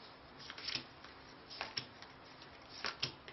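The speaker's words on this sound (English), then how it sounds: "each player shuffles their own deck and draws a hand of 4 cards" Quick riffling bursts of a player shuffling their own deck of playing cards for a three-player tabletop card game, several short crisp shuffles close up, with no talking.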